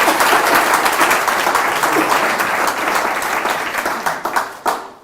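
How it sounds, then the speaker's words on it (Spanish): A church congregation gives a loud, sustained round of applause, a thick continuous roar of many hands that tapers off toward the end with a few final scattered claps. "Así que démosle un fuerte aplauso a nuestro Señor Jesucristo."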